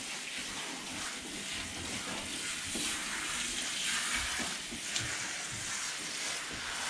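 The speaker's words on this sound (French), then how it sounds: "On va rincer Darling." Water runs steadily as an animal is rinsed for a skin problem, a continuous close hiss of spray with faint splashes and no talking.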